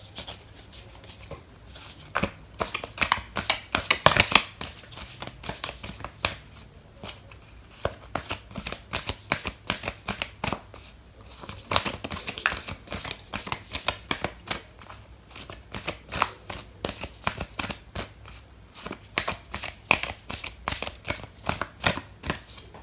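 Oracle cards are shuffled by hand in a steady run of crisp riffling and flicking bursts during a Gemini reading, close and moderately loud, continuing unbroken with no talk over it.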